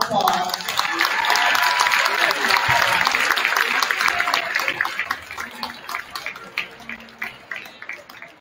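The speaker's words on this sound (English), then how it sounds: "let's give the parents a round of applause." Crowd in a high school gym applauds the parents at a varsity boys' basketball game, a loud burst of clapping that gradually thins into scattered individual claps.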